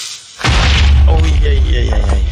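A Minecraft creeper explodes in the game, a sudden loud deep boom after a brief quiet moment, followed by a rumbling tail as a voice talks over it.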